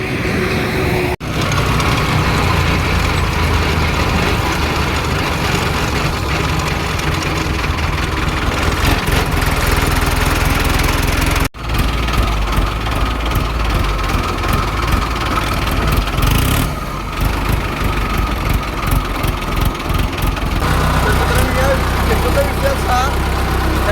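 A tractor engine runs loud and close in a steady, rumbling drone throughout, with people talking over it.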